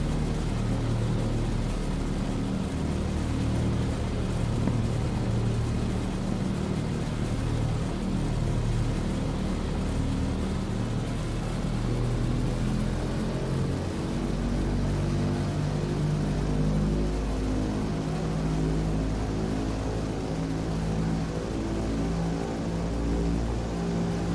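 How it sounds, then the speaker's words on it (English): A Beechcraft 18 twin radial-engine aircraft in a flight simulator runs up its engines: a loud, steady, continuous droning roar with a low rumble, holding without a break for over twenty seconds. "make our engine run up"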